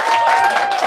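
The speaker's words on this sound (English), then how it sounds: "please join me in giving these 2 a round of applause." Audience applause at a book event, a steady wash of clapping from a crowd, close and fairly loud for a brief burst, with no talk over it.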